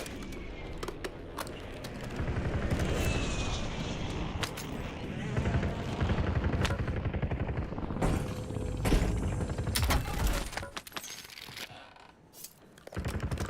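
Game gunfire from a Warzone match, sharp repeated cracks and bursts spread through the clip over a dense, busy mix of game sounds and talk.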